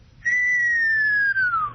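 A person whistles a long, loud falling tone imitating a dive bomb, a single clear whistle sliding steadily downward for about a second and a half.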